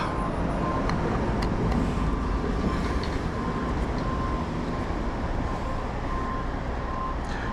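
City traffic carries on as a steady, moderately loud roar of passing vehicles, with no voices over it.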